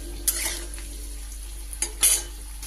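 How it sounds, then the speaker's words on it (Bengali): Potato pieces frying in hot rice bran oil in a pan: a soft continuous sizzle broken by a few sharp scrapes and clinks of a spatula stirring against the metal. "এবার আমি আলুগুলোকে ভেজে নেব।"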